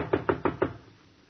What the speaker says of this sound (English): Now, I knock on your door.